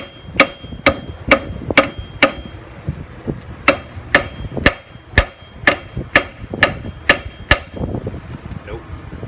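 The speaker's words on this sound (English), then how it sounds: "I'll take the hammer and try and get this out of here." Sharp metallic hammer strikes ring out one after another, about a dozen loud blows at an uneven pace, driving a bolt out of a 2013 Dodge Charger control arm, with clanging close by.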